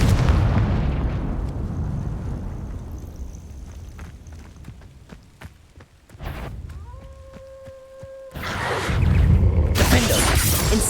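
Spell blasts from Bombarda and Confringo in Hogwarts Legacy burst out as loud explosive booms and shattering crashes, with sharp cracks and a ringing magical tone between them, ending in a dense roaring blast.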